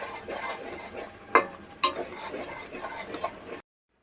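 Naga chili pickle with ginger-garlic paste and turmeric being stirred and fried in a pan, a soft steady sizzle broken by two sharp scraping strokes of a spoon, close by with no talking, then silence.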